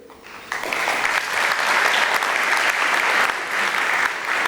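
A graduation ceremony audience breaks into loud, sustained applause, a dense wash of clapping that swells quickly and holds steady throughout.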